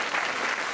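Brief burst of clapping from the audience at a stand-up comedy show, a dense even patter lasting under a second.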